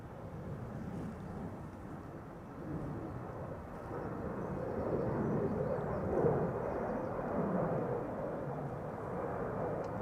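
KLM Embraer E195-E2 airliner departing Amsterdam Schiphol, a broad steady engine roar building slightly and holding at moderate distance, with wind noise and no talk.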